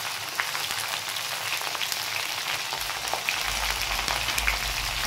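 Chopped ridge gourd with salt and turmeric is stirred in a pan, giving a steady close sizzle with light scraping and crackle, sounding almost like rain, with a low rumble near the end and no talk.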